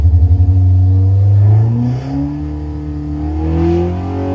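A Hillman Imp 1200 engine on a dyno revs hard and loud, rising through the rpm before easing back, with a deep rumble and clattering mechanical overtones throughout.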